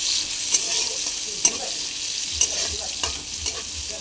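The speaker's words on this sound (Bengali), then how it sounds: "এবার পেঁয়াজটাকে খুব সুন্দর করে ভেজে নেব।" Onions fry in hot oil with a loud, steady hiss and crackle, broken by several sharp stirring clacks of a spatula at roughly one-second intervals.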